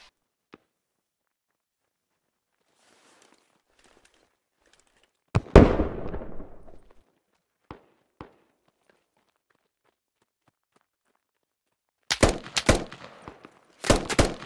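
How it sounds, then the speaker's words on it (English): Gunfire in the military video game Squad: one loud close shot booms and echoes, a couple of faint pops follow, then rapid bursts of nearby shots crack near the end, with long quiet gaps between. "Oh, danger close, shots."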